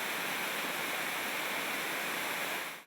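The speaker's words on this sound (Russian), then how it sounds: "Водопад образован правым притоком реки Аса, которая является главной водной артерией Ингушетии" Waterfall about 15 metres high and 5 wide, cascading in several steps on a right tributary of the Assa River in the Ingushetian mountains; a steady, dense rushing roar close by, alone and unbroken, cutting off at the end.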